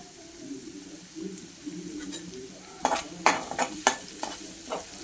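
Green chilies fry in a pan of rice seasoning with a soft, steady sizzle, broken by several sharp metallic scrapes and clinks of a spoon stirring in the second half.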